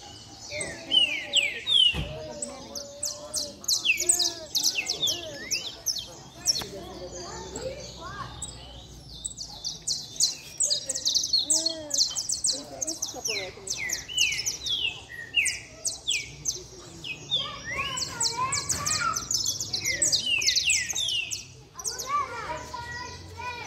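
Several songbirds, Brazilian native canaries and saltators, sing and chirp busily in fast, bright trills and whistles, with occasional distant voices and background noise underneath.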